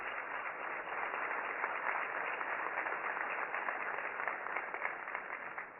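An audience at a formal public event applauds to welcome a guest, a steady, even rush of many hands clapping together, soft and somewhat distant, sustained without pause and tapering slightly at the end.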